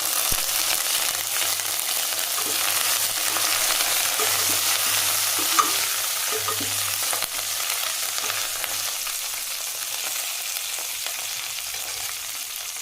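Curry leaves frying in hot oil for a Tamil-style mutton gravy give a steady, close broadband sizzle with occasional stirring scrapes and a faint low hum underneath, continuous throughout with no talking.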